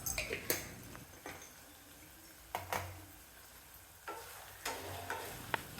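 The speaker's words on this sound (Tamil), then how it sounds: "எல்லாம் சேர்த்து நல்லா வதக்கணும்." Ingredients sizzle and fry in a pan while a utensil stirs and scrapes every second or so, close and fairly quiet.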